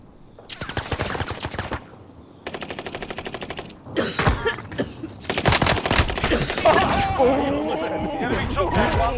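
Rapid automatic gunfire from the Warzone video game, several loud close bursts with short gaps between them, followed by a chaotic stretch of shots and effects, with voices talking over parts of it.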